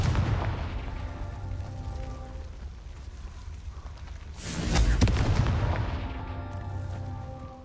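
A Confringo fire spell explodes in the Hogwarts Legacy video game. A loud booming blast lands mid-clip over a steady bed of game music and ambience, then fades back into the background.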